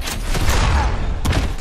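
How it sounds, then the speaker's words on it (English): Rockets launch in an arena fight in the Injustice video game, with a couple of sharp whooshing blasts over a dense rumbling background, loud and close. "when you push this red button, you can actually launch these rockets over at Superman there"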